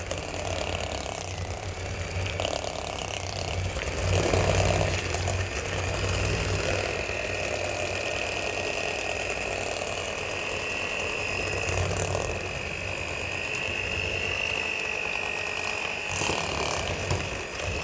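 Electric mixer beating cream cheese at low speed for a Thai mango cheesecake, a continuous whirring, rattling motor sound with a steady tone, close and fairly loud throughout.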